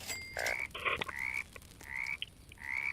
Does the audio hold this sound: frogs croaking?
yes